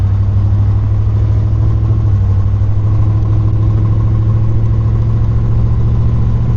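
A 1956 Ford Thunderbird with a 312 V8 Y-block runs on a test drive, its steady, loud, low engine drone holding close and unbroken throughout, with no talking.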